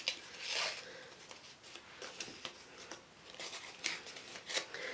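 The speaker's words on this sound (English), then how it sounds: "So I'm just going to do that same thing again, where I'm going to kind of rip it." Coloured cardstock is torn by hand for a papercraft card, making rough scratchy tearing strokes in short uneven bursts close up, with no voice over it.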